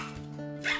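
A pet dog barking indoors in a home, a brief yip or bark over a low steady background, short and moderately close, with no talk.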